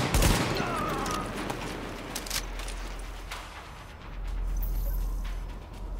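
Enemy gunfire in Tom Clancy's The Division, a dense burst of shots at the start followed by scattered sharp cracks over a steady low rumble.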